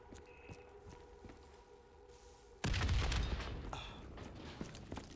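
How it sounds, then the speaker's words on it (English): In a Call of Duty: Black Ops III first-person shooter, a loud explosion suddenly bursts after quiet ambient noise and faint thuds, followed by a rumbling, debris-filled tail that gradually fades. "The explosion blocked our path."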